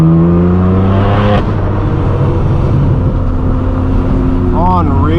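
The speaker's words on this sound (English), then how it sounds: "There goes Shmi in a Zenvo" A Zenvo hypercar revs its engine while driving past on a street during a hypercar rally, a loud continuous roar with steady harmonic drone, rising pitch swells near the end, and excited talk over it.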